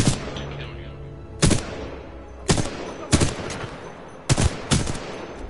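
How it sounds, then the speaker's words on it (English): Gunfire in the video game Titanfall 2: several sharp, loud shots, some single and some in quick pairs, spread across a few seconds over a low background rumble. "shoot one guy and everyone knows where I am"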